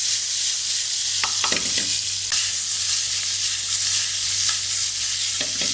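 Paneer cubes with peppers and onions stir fry in a karahi, a steady close sizzle broken by several short clinks and scrapes of the spatula against the metal pan.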